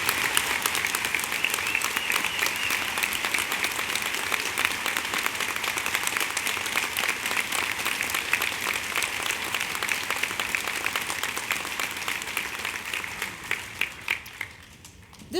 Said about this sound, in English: I'd like for everybody to give him a round of applause